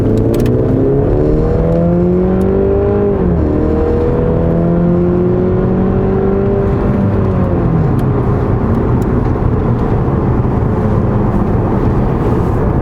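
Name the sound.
Mercedes car accelerating in sport mode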